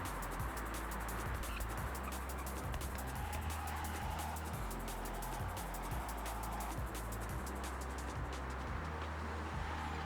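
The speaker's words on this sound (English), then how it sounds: "the engine sounds bugged" A car engine in the video game Forza Horizon 6 drones steadily throughout with a buzzy, looping, glitchy tone, loud and unbroken, with no voices.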